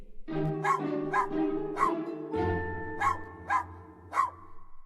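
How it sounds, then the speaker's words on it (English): A small dog barks in a garden, several sharp barks in an irregular rhythm over a steady low hum, fairly close and moderately loud. "I can see you have a very cute dog here"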